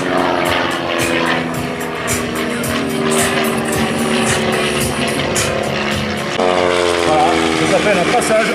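A Zlin aerobatic propeller plane from the 1960s passing at an airfield show, a loud droning engine with shifting pitch that swells near the end, while a commentator talks over it.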